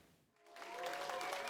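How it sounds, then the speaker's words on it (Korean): Fans cheer and applaud for short-track speed skater Shim Suk-hee, starting after a brief quiet moment and rising into a steady, moderately distant wash of clapping and crowd noise. "팬들의 뜨거운 환호에 밝게 웃음을 짓는 심석희"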